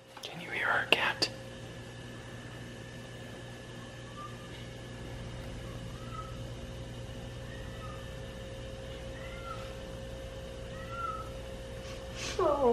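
A cat gives several soft, high meows at intervals over a steady low hum, with a few brief louder rustles at the start and end.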